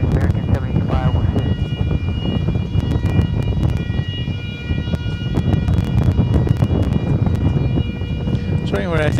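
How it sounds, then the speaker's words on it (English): A whining, siren-like motor tone carries through the night near DFW Airport, rising and falling against a dense rumble of distant traffic and machinery, with bursts of talk or radio chatter mixed in. "It's some kind of a motor whine."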